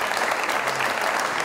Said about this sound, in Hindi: बहुत सारी तालियां जवेरिया के लिए।